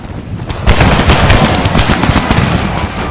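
Musket volleys crackle in an Empire Total War battle set in the American Civil War, dense overlapping shots fired at long range over flat terrain, loud and continuous.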